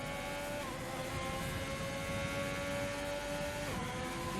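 Racing cars run close together in a racing video game, giving a steady droning engine whine with sustained tonal pitch that shifts slightly as they jostle, moderately loud with no talk.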